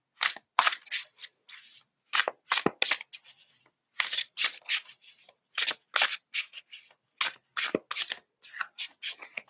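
Tarot cards are shuffled by hand close up, a long run of crisp riffling bursts separated by short pauses, steady and rhythmic, with no talk over them.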